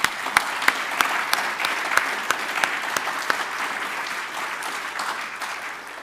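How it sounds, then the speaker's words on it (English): An audience applauds after an inaugural law faculty lecture, a steady wash of clapping with a few sharp louder claps standing out, sustained throughout and slowly easing toward the end. "Let's give her another round of applause."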